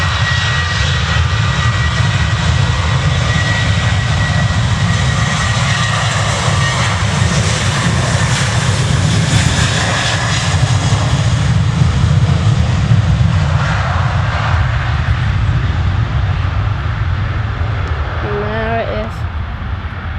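An airliner roars continuously as it starts its takeoff roll departing Manchester Airport, a loud steady engine rumble heard from nearby, with a person talking over it.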